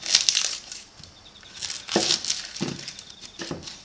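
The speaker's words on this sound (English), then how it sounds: "So I'll cut up an onion." An onion is cut up with a not particularly sharp kitchen knife, giving a few crisp, crunchy slicing bursts spaced irregularly, close and fairly quiet with no talk.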